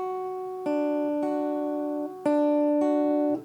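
Fingerpicked guitar playing a Travis-style pattern, a chromatic bass line moving under ringing top strings, with several picked attacks across a steady, moderately loud sustained tone and no talking.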